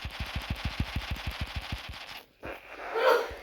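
Rapid automatic gunfire in a zombie shooting video game, a steady burst of about a dozen evenly spaced shots, then a short pause and a brighter blast or impact, loud and with no talk over it.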